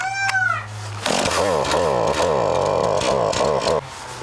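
A chainsaw revs up after a brief tonal squeal, roaring loudly and close with pulsing, sawtooth-like rises in pitch before cutting off near the end.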